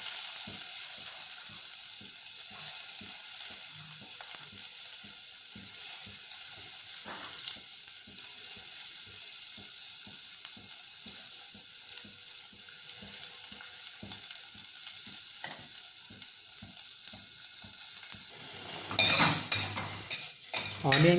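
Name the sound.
onion frying and being stirred in a pan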